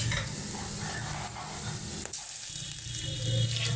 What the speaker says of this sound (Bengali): তেলটা গরম করার পর দিয়ে দিলাম 3টি মরিচ। আমি মরিচ কমই দেই। তারপর দিলাম দারচিনি, এলাচ, কালো ফল, তেজপাতা, গোলমরিচ